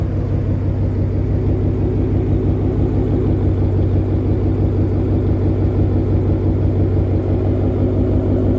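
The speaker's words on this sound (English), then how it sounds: "you can hear it idling louder" A 2019 Ford Mustang GT V8 with an X-pipe and Roush axle-back exhaust idles steadily, a loud, close, deep rumbling burble with an even pulsing throb throughout and no voices.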